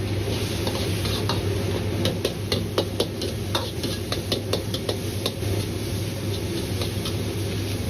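Tomatoes stir-fried in a pan over medium-low heat until soft, a steady close sizzle with repeated spatula scrapes and clinks against the pan, no one speaking.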